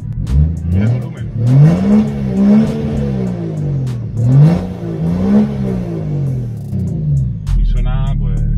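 A Golf GTI Mk5 or BMW E46 engine is blipped repeatedly to high rpm, sharp revs rising and falling in bursts, loud and close, with someone talking between them.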